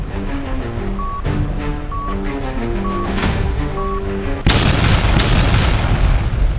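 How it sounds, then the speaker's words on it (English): A bomb detonates in the Roblox video game: a sudden loud blast cuts through a tonal musical backdrop and leaves a broad, roaring rumble that sustains to the end. "There, I blew it up."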